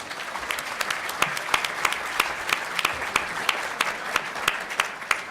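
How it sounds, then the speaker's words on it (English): An audience at a public forum on pension reform applauds, a steady patter of many hands with sharp individual claps standing out, moderately loud and sustained for several seconds. "How about a round of applause?"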